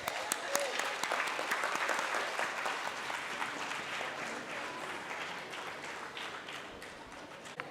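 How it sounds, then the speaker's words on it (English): Applause rises from the audience at a Brahmo conference session in Hyderabad, a dense patter of clapping that holds for several seconds and slowly thins out, with no talk over it. "let's have a big round of applause for Rekha Aunty first."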